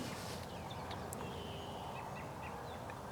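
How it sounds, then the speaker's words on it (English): Wild turkeys gobbling close by in open grassland, a few short rough bursts over steady outdoor background noise. "So I just heard them all gobbling right down here, real close."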